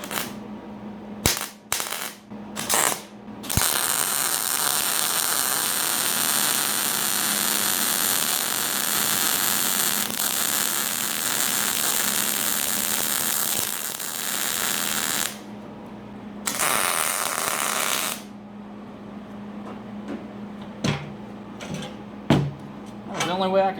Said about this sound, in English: And then I'm just going to weld that right there.